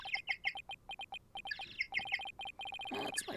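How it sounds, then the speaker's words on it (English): Chirping bird ringtone on a phone in the video game Ace Attorney Dual Destinies, a rapid run of bright repeated tweets in short bursts, clear and fairly close, ending in a brief noisy flourish. "That's my ringtone."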